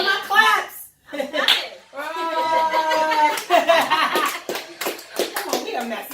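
Sharp hand claps break in among lively, laughing voices on a casual podcast recording, bursts of close and fairly loud clapping mixed with talk.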